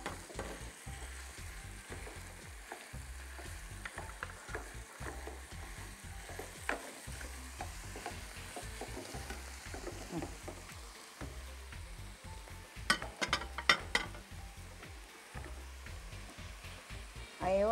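Meat sizzles in a pan with wilted onions, a steady close frying hiss with occasional stirring clicks, accompanied by a rhythmic low background beat.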